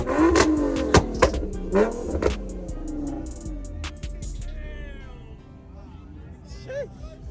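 A Dodge Hellcat at a car meet revs hard in a few loud bursts that shoot exhaust flames, with pops and crackles before the engine settles to a lower rumble, while people talk and chatter nearby.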